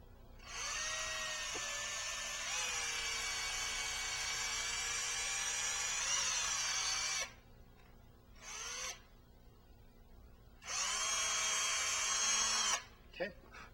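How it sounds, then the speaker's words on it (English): A power drill bores a hole into the top of a wooden cane stick in two long high-pitched whining bursts with a short pause between, loud and close, with no talking. "I'm going to take and drill a hole into the top of the stick."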